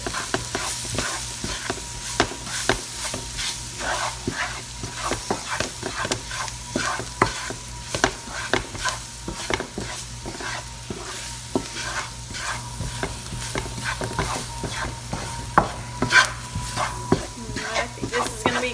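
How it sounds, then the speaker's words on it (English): Food sizzling in a pan while being stirred steadily for nearly twenty seconds, a busy stream of close utensil scrapes and taps over constant frying hiss. "We're going to stir that around for about a minute longer."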